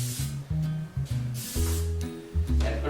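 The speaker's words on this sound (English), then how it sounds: "I'm going to butter them a little bit with a little spray oil." Spray oil hisses onto brioche buns in several short bursts, each a soft airy spritz separated by brief pauses, close and fairly quiet over a low background hum.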